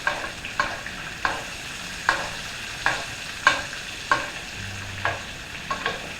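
Scallops cook in foaming butter over low heat in a tilted pan, a steady soft sizzle broken by repeated sharp scraping or basting strokes roughly every half second, close and fairly quiet with no talk.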